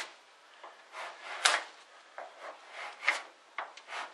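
A Bondo squeegee spreads body filler across a car panel in a series of short, soft scraping swipes with quiet pauses between strokes.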